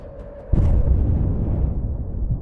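An artillery shell strikes a tank with a sudden loud explosion, followed by a deep rumbling roar that slowly fades.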